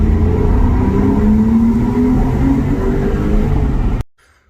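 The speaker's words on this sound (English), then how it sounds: "Thought I'd give you a little test of the exhaust note." A Porsche 911's exhaust note rings out inside a tunnel, a loud, sustained engine roar held close for about four seconds before cutting off abruptly into near silence.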